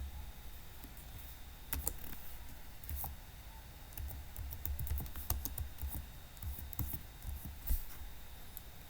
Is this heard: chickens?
no